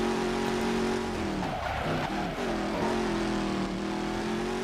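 A car engine in the racing video game Midnight Club 3 on the Tokyo streets holds a steady, loud high rev, with a brief dip and tire-scrub noise midway before climbing and droning on again.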